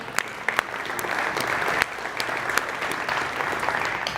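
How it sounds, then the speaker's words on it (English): A conference audience gives a round of applause during opening remarks, a dense, steady crackle of many hands clapping at moderate distance, filling the room without a break for about four seconds. "So I'd like to give everyone a round of applause for your contributions in making this happen."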